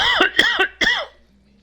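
A person coughs several times in quick succession, three or four harsh, close bursts with a throaty clearing quality, then falls quiet.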